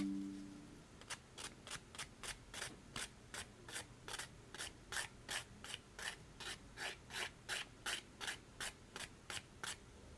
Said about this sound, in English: I'm just trying to rub off the textures that green stuff left.